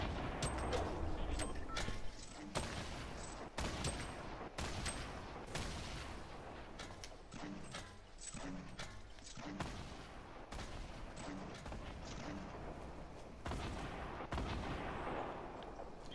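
Dense, continuous gunfire from a Fortnite match, loud bursts of rapid shots and booms overlapping almost without pause, with faint voices mixed underneath.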